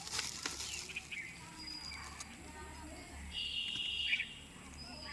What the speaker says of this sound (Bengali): কোয়েল পাখি দুটো আমি কি সুন্দর করে আটকে রেখেছি পাখিটা কিন্তু ওড়ে